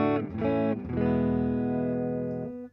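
A warm electric guitar rhythm tone through a Death By Audio Echo Dream 2 pedal rig: a few quick strummed chords, then one long ringing chord sustaining and slowly fading, loud and close with no talk.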